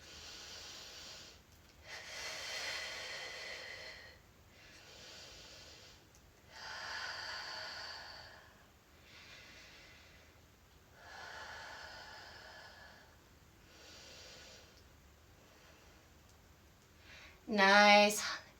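During a splits stretch in a flexibility class, slow, deep breaths rise and fall in a steady rhythm of long airy inhales and exhales, close and fairly soft, ending in a sharper nasal snort.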